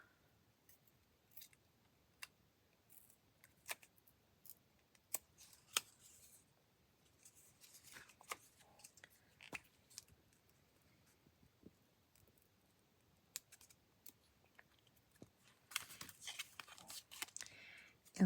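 Paper torn by hand to make a collage journal card: quiet, scattered crisp rips and crinkles with a busier stretch of tearing near the end, close and soft in a still room.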